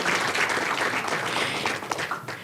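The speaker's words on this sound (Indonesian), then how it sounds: "Beri tepuk tangan yang meriah teman-teman semuanya." Lively audience applause at a football talk show, a steady wash of dense clapping that fades slightly at the end.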